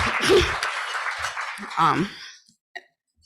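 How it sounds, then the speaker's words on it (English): A meeting audience gives a round of applause for the admin team at a Rotary annual meeting: a dense burst of clapping that fades out after a couple of seconds, followed by a lone click. "I would love to give them a round of applause"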